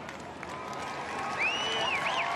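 Stadium crowd at an Adelaide versus Port Adelaide football match rising in a roar of cheering and applause after a goal, with a commentator talking over the swelling noise.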